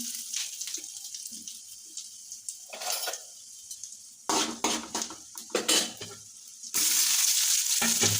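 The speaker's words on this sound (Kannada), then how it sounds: "ಸಾಸಿ ಜೀರಿಗೆ ಚಟಪಟ ಅಂತ ಅಂದ ಮೇಲೆ ಪುಟನೂ ಹಾಕ್ಲತ್ತೆ ನೋಡ್ರಿ ಕಡಲೆ ಅಂತ ಅವು ಹಾಕಲತ್ತೆ ನೋಡ್ರಿ ಮತ್ತು ಒಂದು ಸ್ವಲ್ಪ ಕಡಿಪತ್ತೆ ರೀ" Mustard seeds and cumin crackle in hot oil as chana dal and curry leaves are added to fry, with utensil clinks against the pan and a sudden loud sizzle near the end, heard without speech.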